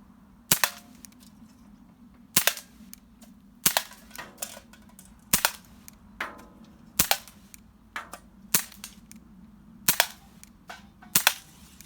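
An RWS C225 CO2 air pistol fires repeatedly on a plinking session, sharp loud cracks at fairly regular intervals of about one to two seconds, each followed by a faint metallic tick of the target being hit.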